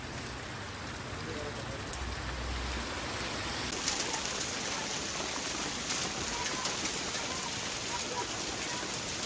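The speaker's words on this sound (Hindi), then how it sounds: "आज सुबह हुई ओलावृष्टि और तेज बारिश ने आलू को भिगो दिया है।" Heavy rain mixed with hail falls steadily on potato fields, a constant dense hiss of drops from start to finish.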